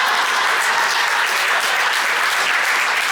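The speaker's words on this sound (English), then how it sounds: "Will you clap for them, please?" A stand-up comedy audience at a club gig in Glendale, Arizona claps for the comedians, with dense, steady applause filling the room at full volume and no voices above it.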